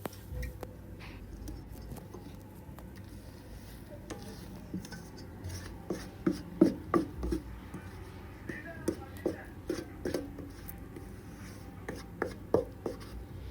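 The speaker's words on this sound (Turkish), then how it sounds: "İç harcımızı güzel bir şekilde yayalım." A spoon spreads coarsely chopped walnut filling across a greased glass baking dish, giving soft scraping and rubbing strokes that turn into sharper, irregular scrapes midway. A voice talks quietly underneath.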